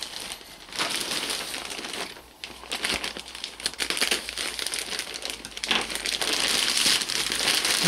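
A plastic parcel packaging bag crinkles and rustles continuously close up, handled steadily for several seconds with brief pauses.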